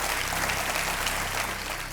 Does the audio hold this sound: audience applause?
yes